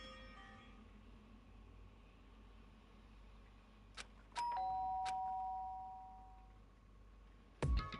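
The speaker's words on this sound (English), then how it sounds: "did I hear the doorbell?" A doorbell in Danganronpa: Trigger Happy Havoc rings out over a quiet background: a couple of short chimes, then a sustained, fading ding-dong tone, followed by another sharp chime near the end.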